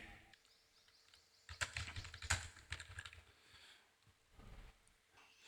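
Typing on a computer keyboard while entering text beneath a picture in a Word document, heard as irregular bursts of close, fairly quiet key clicks with short pauses between them.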